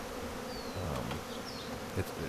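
A steady, dense buzz of many bees swarming close by during a hive removal, with a brief louder thump near the end.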